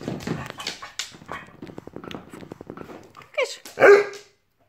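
A dog barks and whimpers in a series of short, close vocalizations, ending with a louder bark before falling silent.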